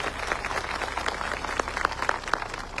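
A crowd at a gathering applauds police officers, dense continuous clapping from many hands, fairly close and steady throughout.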